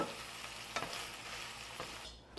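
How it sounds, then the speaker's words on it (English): Steady sizzling and crackling of hamburger meat browning in a pan for a hobo casserole, with a couple of brief stirring scrapes, close up and fairly quiet. "now while our hamburger is browning"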